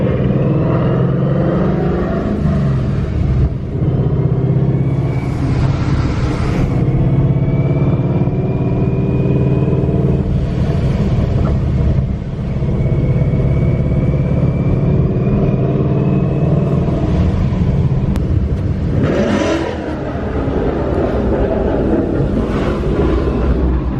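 Ford Mustang driving on wet roads in light rain, its engine droning steadily up close with several rises and falls in revs and whooshing boost swells, plus passing traffic.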